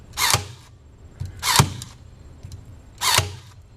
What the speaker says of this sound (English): see how the brad nailer does on that